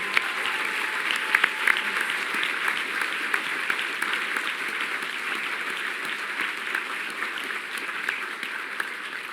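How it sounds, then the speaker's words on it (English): Audience at a Witcher panel at PAX Prime 2015 gives a sustained round of applause, dense steady clapping from a large crowd filling the room throughout. "if we want to give a big round of applause for these guys one more time"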